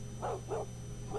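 Dogs bark in a quick pair of barks and then a third one, muffled and mid-distance, heard over a low steady hum, as though picked up through a phone line.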